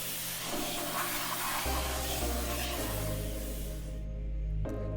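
A pressure washer or hose spray rinses a filthy car wheel, a steady broadband hiss with a low motor drone underneath, loud and close, ending with a brief clatter.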